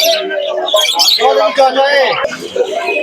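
Loud, close pigeon calls at a pigeon market overlap with a voice speaking, cooing and chirping mixed into the busy foreground.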